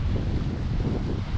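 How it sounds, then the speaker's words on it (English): Strong wind gusts at Lintrathen Reservoir in Scotland, beside a driftwood-strewn shore, buffeting the microphone with a loud, constant low rumble. "Oh, it's so windy."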